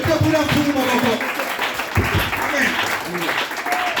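A church congregation applauds and cheers the Lord during a French-language worship service, a loud, dense wash of clapping mixed with voices and shouts that continues throughout.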